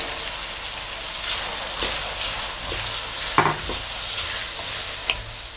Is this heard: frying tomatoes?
yes